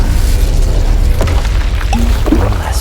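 An Incendio fire spell blasts during a duel in Hogwarts Legacy, a loud, rumbling boom with crackling bursts over a constant heavy low roar.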